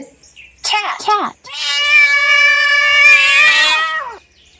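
A human voice imitates a cat's meow: two quick, chirpy syllables, then a long, drawn-out, whining meow that holds steady before falling off. It is close and loud against silence.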